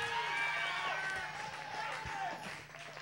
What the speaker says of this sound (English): You cheer like hell as they make it up here in whatever order they can.